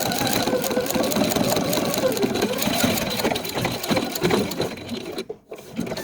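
A sewing machine running a straight stitch through quilt fabric scraps, a steady fast mechanical hum and chatter close up, slowing and stopping briefly near the end before starting again.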